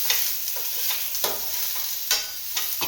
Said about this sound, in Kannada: ಇವಾಗ ಸ್ವಲ್ಪ ಫ್ರೈ ಮಾಡ್ಕೊಳ್ಳೋಣ.